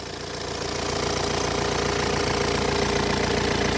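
A 2006 Hyundai Santa Fe MLX diesel engine idles under the open hood, a steady close mechanical drone with rhythmic diesel knocking that holds even and loud throughout.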